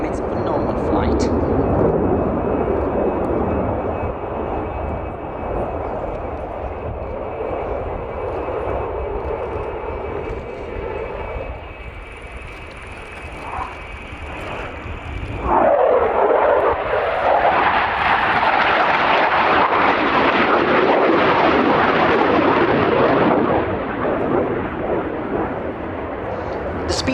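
Italian Air Force Eurofighter Typhoon jet at an air show flying display, a loud sustained engine roar that fades, then swells into a powerful rushing pass in the second half.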